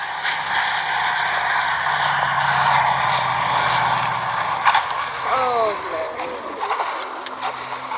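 A Yak aircraft with wheels down on final approach at the 2017 Abingdon Air and Country Show, its engine a steady, fairly loud drone throughout, with voices faintly audible near the end.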